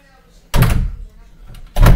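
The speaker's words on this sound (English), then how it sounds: "I'm going to close both doors on you guys." Two doors slam shut one after another indoors, each a loud, close thud roughly a second apart, with quieter rustling and movement between the impacts.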